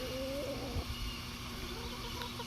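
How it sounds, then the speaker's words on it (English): Bees of several kinds buzz around lavender in a late-spring garden, a steady, fairly quiet hum that lasts throughout with no talk. "all the bees, different types of bees flying around my lavender"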